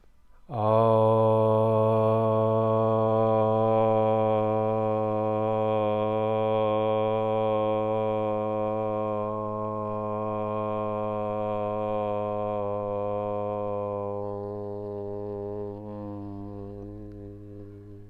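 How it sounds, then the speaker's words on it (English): A single long, sustained Om chanted by one voice during a slow-flow yoga session, steady and resonant for about fifteen seconds before fading out, alone without other talk. "And now we inhale for Om, breathing in through the nose."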